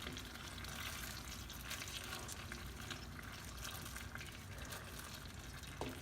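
A biko rice cake mixture is stirred in a pan, with a continuous soft sizzling and scraping texture, close and fairly quiet, with no talking.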